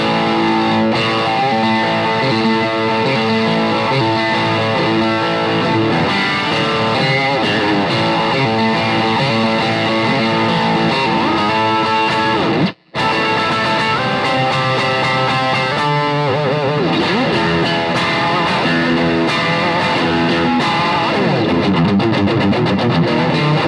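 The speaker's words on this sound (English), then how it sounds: "time for some distortion? I think so. Again, on my Angle Gigmaster 30." A Fender Yngwie Stratocaster electric guitar played with heavy distortion through an Engl Gigmaster 30 amp, loud and sustained riffing throughout with one brief dropout midway, no talking.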